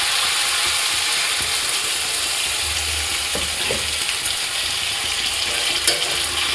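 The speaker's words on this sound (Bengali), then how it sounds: "মশলা পুরো কষানো একদম হয়ে গেছে, কমপ্লিট" Spice paste for a chicken leg curry sautéing in a pan, a loud, continuous close sizzle with occasional faint scrapes of a spatula, no voices.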